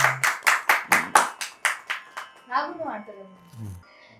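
A group claps in a steady rhythm at a home Varamahalakshmi festival gathering, about ten crisp, loud claps in a row, then the clapping stops and a person speaks briefly.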